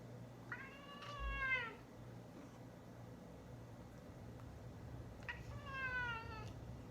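A cat gives two long, drawn-out yowling meows a few seconds apart, wavering and fairly close over a quiet room hum, with no talk.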